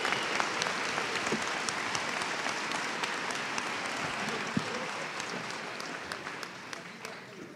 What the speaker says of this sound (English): Give these students a round of applause.